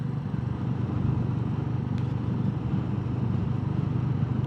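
A Royal Enfield Meteor 350 motorcycle rides along with a steady low engine drone and wind rush, close and even throughout, with no voices.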